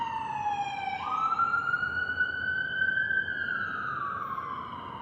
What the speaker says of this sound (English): Siren break.